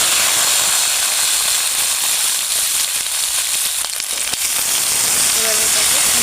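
Steady hiss and sizzle of chopped green tomatoes and chili frying in a pan for a tomato jhal, continuous and close with a few faint clicks near the end.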